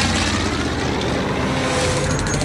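Piston engines of German WWII attack planes roar overhead in a steady, dense drone that fills the whole stretch without a break, loud and close, with no voices.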